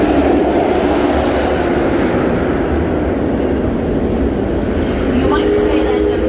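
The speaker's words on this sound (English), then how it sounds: "the runaway mine train has a mini-me right in front of us called the mini-mine train" A kiddie mine train roller coaster at an amusement park gives off a steady, broad rumble of ride and park noise that holds level and fairly loud the whole time.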